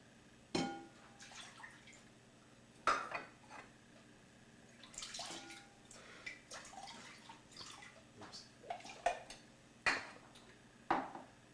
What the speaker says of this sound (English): put 1 1/3 cups of water in it